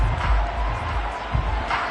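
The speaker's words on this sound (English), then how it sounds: "The crowd getting into it" Stadium crowd at a college football game cheering through a broad, steady roar, swelling slightly near the end, with no clear talk on top.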